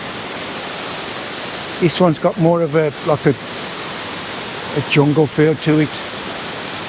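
Kuang Si Falls in the Laos jungle sends up a steady, even rush of falling water that fills the whole scene, with someone talking briefly over it twice.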